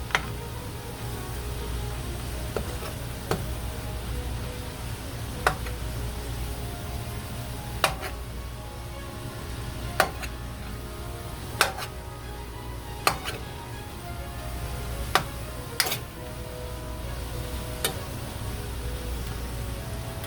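Steady low sizzle of meat frying in a skillet for egg rolls, punctuated by occasional sharp scrapes and clicks of a utensil breaking up the meat against the skillet.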